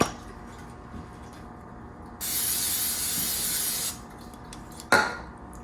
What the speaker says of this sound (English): spray your air fryer.